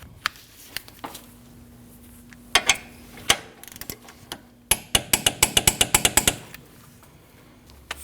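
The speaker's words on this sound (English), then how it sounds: "And tighten and torque your bolts." A torque wrench on the lower ball joint pinch bolt of a 2003-2008 Subaru front hub clicks close by, with a few scattered ratchet clicks leading into a fast run of sharp ratcheting near the end.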